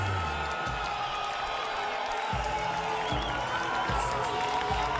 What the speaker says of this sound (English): Nice round of applause from the partisan crowd here in Phoenix